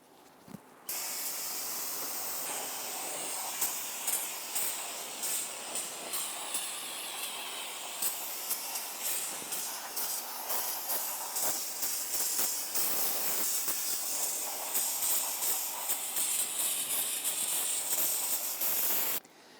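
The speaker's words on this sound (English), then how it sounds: "Use a can of solvent to spray this down." Long continuous aerosol solvent spray hissing loudly onto rear drum brakes of a Toyota Tundra for most of the stretch, broken by short sputters and pauses near the end.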